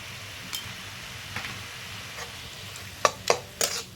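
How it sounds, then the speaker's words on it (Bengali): A spoon stirs parwal curry with green chilli and salt in a pan over low heat, starting as faint scrapes and soft sizzling, then a few sharper clinks against the pan near the end. "এখন ভালো করে নাড়া করে মিক্স করে নেব।"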